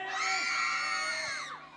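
A group of women at a wedding party lets out one loud, sustained high-pitched scream lasting well over a second before it trails off.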